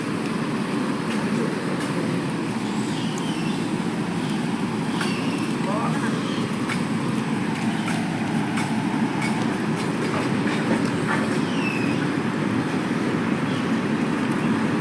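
A large train rolls past on a railway line through the Araku hills, a steady close rumble of wagons with faint clicking wheels and occasional squeals, while voices are heard underneath.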